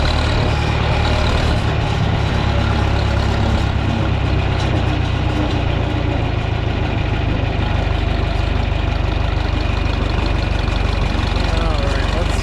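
A John Deere 3010 tractor's engine runs loudly and steadily throughout, a dense continuous drone close to the listener with no breaks.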